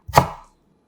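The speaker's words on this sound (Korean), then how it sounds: "생강 마늘 크기 1개도 얇게 썰어 담아주세요" A single crisp knife stroke slices through ginger and garlic on a cutting board, sharp and close, ending quickly with no voices around it.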